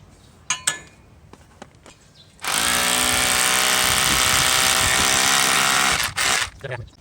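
An electric drill bores a hole for mounting a satellite dish, whirring steadily for about three and a half seconds, loud and close, with a few clicks and knocks before and after.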